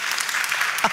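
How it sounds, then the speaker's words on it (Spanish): An audience breaks into applause at a literary award event in Spain, a dense patter of clapping filling the moment, loud and continuous with a brief louder burst near the end. "Otro aplauso."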